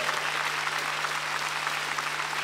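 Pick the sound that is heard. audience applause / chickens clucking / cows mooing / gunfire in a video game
audience applause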